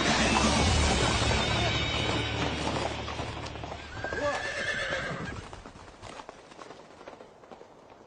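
A horse on a dangerous path whinnies loudly while its hooves clip-clop in a steady rhythm; the neigh rises midway over the hoofbeats, which fade and grow fainter toward the end.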